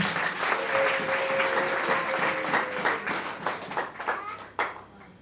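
Church congregation applauding during a sermon: dense, steady clapping from many hands that thins into scattered claps near the end.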